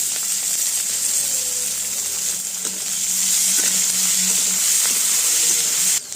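Bay leaf, whole cumin, crushed garlic, chopped onion and tomato fry in hot oil with a steady close sizzle and hiss, with faint stirring taps through it.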